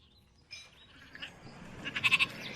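Sheep bleat faintly in the sheep-farming town of Wagin, with a short quavering call that swells near the end of the brief stretch over quiet background.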